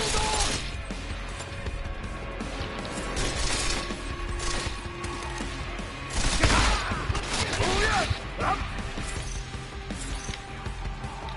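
Chaotic gunfire fills a firefight in Deus Ex: Mankind Divided, with bursts of shots tangled among metallic clatter and mechanical noise. Shouting voices come through the steady din.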